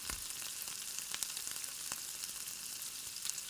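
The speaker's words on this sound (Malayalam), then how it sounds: "ഇനി ഇതിലേക്ക് ഒരു വലിയ സവാള ചെറുതായി അരിഞ്ഞതാണ് ഇട്ട് കൊടുക്കുന്നത്" Finely chopped onion and green chili frying in oil, a faint, steady crackling sizzle with scattered small pops and light stirring clicks, quiet and close with no speech.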